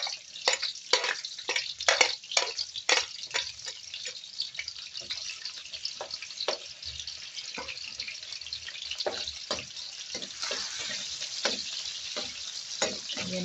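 Onion, ginger and garlic sauté in a hot pan for goat kare-kare, giving a steady sizzle broken by sharp spatula scrapes and clinks in an uneven rhythm, close and without talk.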